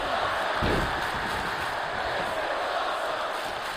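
A dense, steady roar of a large crowd cheering continuously in the wrestling video game WWE 2K24, loud and enveloping, with a brief low thump near the start.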